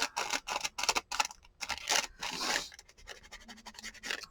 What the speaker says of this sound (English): I cannot cut straight with a pair of scissors.